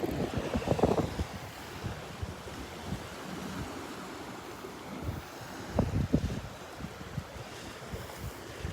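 Ocean waves wash onto the beach at Delnor-Wiggins on a winter morning, surging in two louder rushes amid steady surf and gusting wind buffeting the microphone, with no talk.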